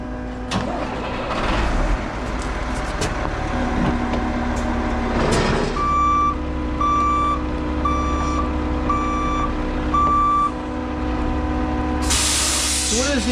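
A truck reverses at a concrete pour for a house foundation on a mountainside, sounding about five evenly spaced backup beeps over a steady engine rumble and hiss.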